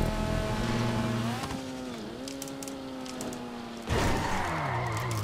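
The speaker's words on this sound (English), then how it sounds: "Maybe it's just the echoes of my own engine." A car engine in the GTA 5 racing game drones loudly and steadily and bends in pitch as the car shifts. It surges into a harder rev near the end, with no voices.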